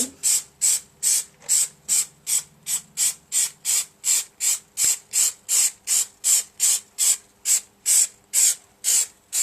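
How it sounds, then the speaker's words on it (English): Short, regular bursts of spray glue from an aerosol can, about two per second, each a sharp hissing puff, repeated steadily with no voices. "So just roughly cover it with the spray glue."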